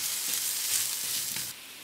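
Breadcrumbs sizzle steadily in a frying pan with champignon mushrooms and leek as they are stirred, a bright close hiss that drops slightly near the end.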